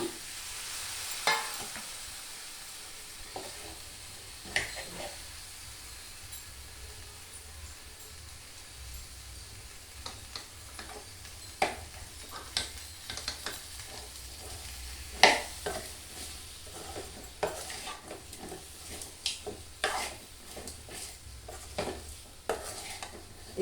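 Drumstick pods (moringa) stirred and frying in a pan with turmeric, a low steady sizzle broken by scattered clinks and scrapes of a spoon against the pan, moderately close, with no talking.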